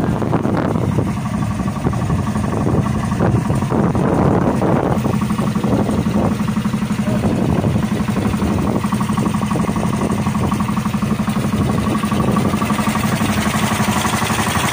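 A newly built boat's engine runs steadily on a test run with a constant low drone and rattling mechanical hum, loud and close, with no talk over it.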